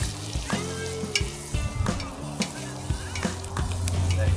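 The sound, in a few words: cowboy beans frying in butter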